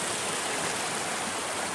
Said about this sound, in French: Comme d'habitude, on remonte le ruisseau